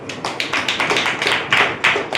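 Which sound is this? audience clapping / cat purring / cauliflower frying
audience clapping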